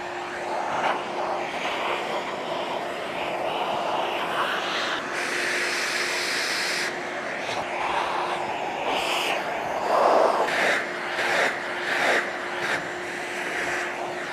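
A vacuum cleaner runs nearby while cleaning off the top roller assembly of a Legend belt sander, a continuous roaring drone whose pitch and loudness shift as the nozzle moves.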